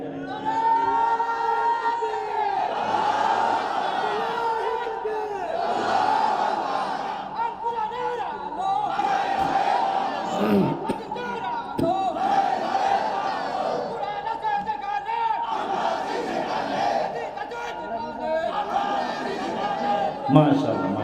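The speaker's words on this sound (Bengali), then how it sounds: "দেন তো একজন তাকবীর দেন" A crowd at a Bengali religious sermon gathering answers with rhythmic shouted takbir chants, loud massed voices rising in repeated waves over about twenty seconds, with a leading voice between them.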